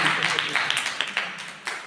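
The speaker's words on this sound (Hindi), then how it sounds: "तालियां बजाओ" An audience at a Jain religious discourse claps along, a quick run of distinct hand claps at a moderate distance over a general crowd murmur.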